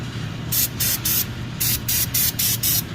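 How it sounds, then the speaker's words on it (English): Brake cleaner is sprayed in short, sharp bursts onto the oil drain area of a Ram TRX truck, with about six close, loud hissing blasts separated by brief pauses, with no talk. "Just gonna shoot some brake cleaner in there, clean it all up as well."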